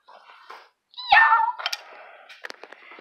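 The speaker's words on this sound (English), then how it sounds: "You're a naughty cat. You're a naughty kitty." A cat gives a few short meows up close, one louder drawn-out cry in the middle followed by smaller chirping calls, with brief quiet gaps between.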